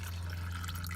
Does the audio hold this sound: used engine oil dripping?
yes